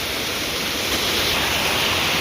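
A mountain waterfall near Rambara on the Kedarnath route roars close by, making a dense, loud, continuous rush of falling water with no voices.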